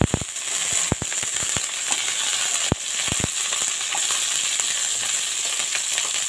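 Cauliflower florets drop into hot oil seasoned with cumin seeds in a wok, letting out a steady loud sizzle and crackle, with sharp pops and spatters scattered through it and no voices.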